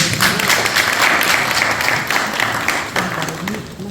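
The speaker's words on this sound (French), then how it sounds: "Alors pour vos oreilles attentives, applaudissez pour vous-même." An audience at a Guinea Connect forum in Laval breaks into loud, dense applause that fills the room, with a few voices rising above the clapping and the sound easing off slightly toward the end.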